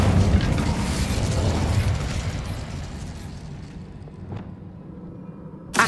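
Incendio fire spell blast in Hogwarts Legacy, a loud roaring burst of flame that rumbles and gradually fades over several seconds, followed by a sharp crack near the end.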